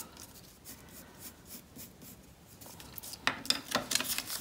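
A pencil draws a line on card, rising straight and then arching over, for a 3D pop-up heart card. Soft scratchy strokes come close and get busier and louder toward the end.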